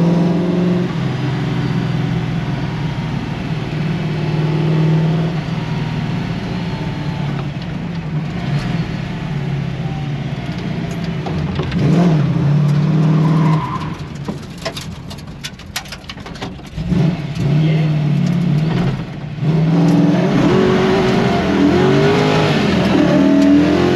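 Gulf-liveried Ford Mustang engine revving while driving, a deep rumble at low revs that swells in sharp throttle blips midway, heard from inside the car with a faint voice at times.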